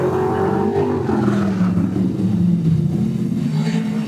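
A race car engine running through a lap of a time trial with a slight misfire, a loud, steady droning rumble that stays close throughout.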